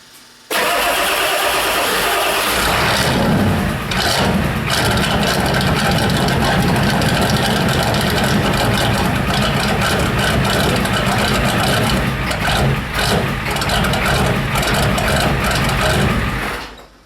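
A 7.3 IDI diesel engine cranks briefly after a squirt of ether, then catches and runs loud and close, settling into a rough, steady idle that carries on to the end.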